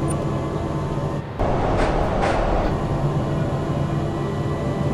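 Tram rolling along city-street rails in the Tram Simulator Urban Transit video game, a steady loud rumble with a brief dip then two soft hissing swells, no talk over it.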